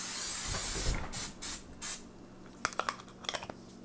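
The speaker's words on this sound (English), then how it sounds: "I spray my pan with some Pam." Three quick hissing bursts of Pam cooking spray hit the pan close by, followed by a few light clicks and taps.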